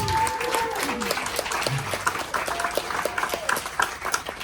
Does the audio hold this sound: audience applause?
yes